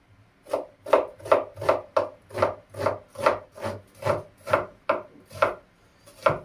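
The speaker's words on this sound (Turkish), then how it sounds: "Şöyle ince ince doğrayayım ki ağza gelmesin soğan." Knife finely chopping onion on a board, about fifteen crisp, evenly spaced strokes in a steady rhythm, close and clear with no talking.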